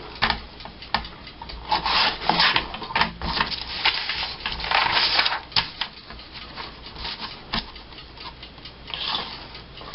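Paper cutout from a calendar being trimmed by hand, giving a steady run of close, scratchy rubbing and snipping noises with light clicks, continuous for the whole stretch without speech.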